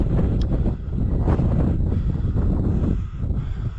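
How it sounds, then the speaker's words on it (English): Strong wind roars across an exposed Peak District hilltop, buffeting the microphone in a loud, continuous rumble with gusts that swell and ease, and no voices. "It's quite windy up here"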